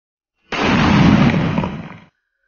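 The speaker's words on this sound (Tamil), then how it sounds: "வாங்க நம்ம வெடித்து பார்ப்போம் எப்படி இருக்குதுன்னு சொல்லிட்டு" A single-shot Kannan firecracker explodes in one loud, close burst that fills about a second and a half before cutting off sharply, with no voices over it.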